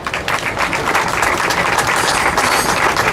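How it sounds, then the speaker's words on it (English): Sustained applause from a gathered crowd at an outdoor ribbon cutting and grand opening for an art studio and pizzeria, dense and loud clapping that continues steadily for several seconds without voices. "we give them a round of applause"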